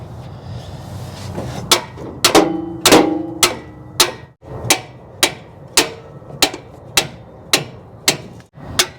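Repeated sharp metallic hammer strikes ring out close by on an old Dodge camper pickup abandoned for 25 years: a quick cluster early on, then a steady, evenly spaced rhythm of blows.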